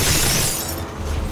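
Glass shatters in the video game RAGE, a loud, close burst of breaking that fades over about a second.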